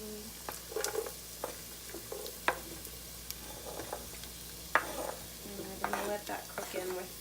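Onion, ginger and green pepper frying together in a pan for a South African chicken curry, with a soft steady sizzle broken by irregular clinks and scrapes of stirring close by.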